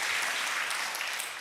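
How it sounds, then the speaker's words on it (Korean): Church congregation applauding to welcome visitors during a Korean Presbyterian Sunday worship service, a steady, fairly soft wash of clapping from many hands lasting the whole moment. "자리에서 잠깐 일어나 주시면 저희가 박수로 환영하도록 하겠습니다"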